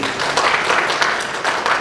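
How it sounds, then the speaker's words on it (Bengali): Broad, steady crowd applause for Joyda, who cleaned the church, rising from a congregation at a Sunday church service, dense and sustained throughout with no pauses. "আমরা আসলে জয়দার জন্য জোরে হাততালি দিই।"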